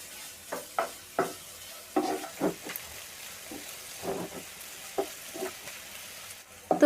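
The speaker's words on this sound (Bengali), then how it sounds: "এখন আমি কিছুক্ষণ পেঁয়াজটা ভেজে নেব" Chopped onion frying in two tablespoons of soybean oil, a steady close sizzle broken by repeated stirring scrapes of a spoon in the pan, with no voices.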